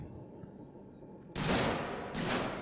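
Gunfire in the video game Alien: Isolation breaks out as a loud, sustained burst after a quiet stretch of ambience. A second sharp burst follows shortly after.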